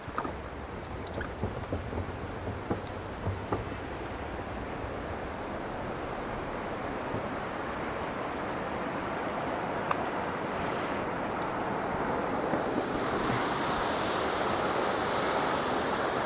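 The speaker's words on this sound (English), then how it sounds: "You can hear the water flowing and" Columbia Creek flows near Yard Creek Campground by Sicamous, BC, close to a waterfall, giving a steady broadband rush of water that stays even throughout with some wind noise on the microphone.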